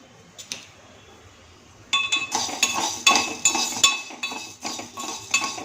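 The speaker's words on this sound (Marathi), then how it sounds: "ज्वारी घेतलेली आहे आणि ही आता भाजून घेते" Dry sorghum (jowar) grains are roasted in a pan. After a quiet start, a close, steady run of rattling and clinking begins as the grains and utensil are stirred, with no talk.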